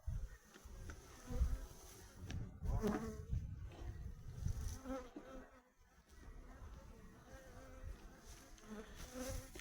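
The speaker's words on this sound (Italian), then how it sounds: "La frama molto popolata, api col polline di Tarassaco" Honeybees buzz steadily around a crowded hive frame carrying dandelion pollen, with drones among them, a dense close hum that swells and dips throughout with a few louder passes near the microphone.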